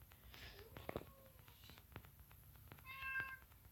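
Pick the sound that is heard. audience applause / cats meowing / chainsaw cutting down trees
cats meowing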